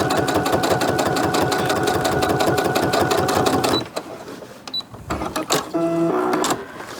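A sewing machine stitches a straight seam on a crumb quilt block, running in a loud, fast, steady mechanical chatter for several seconds, then stopping as fabric is shifted with a few clicks and a short final burst.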